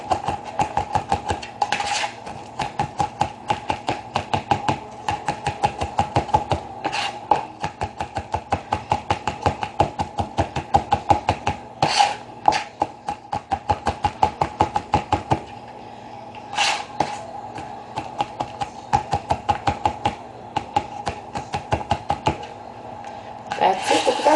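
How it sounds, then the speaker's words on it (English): Knife chopping garlic on a cutting board in a home kitchen, rapid steady taps in long bursts with brief pauses between runs, close and crisp. "let's chop the rest of it"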